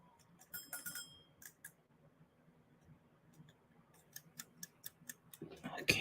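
A kitchen-style timer wound to five minutes ticks quietly and steadily, with a faint run of regular clicks that grows more distinct near the end, heard alone in a quiet room.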